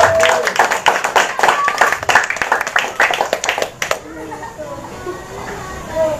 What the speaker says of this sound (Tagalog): Ang hina ng palakpak sa Panginoon.